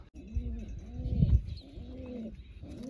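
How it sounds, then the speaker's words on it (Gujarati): A wild pigeon near a water bowl coos softly in repeated rolling phrases, close by, with a faint voice in the background. "તો કબૂતર મને લાગે છે પીવા આવશે હમણાં"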